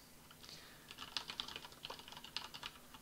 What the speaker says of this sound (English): Sometimes I get ahead of myself when I'm typing.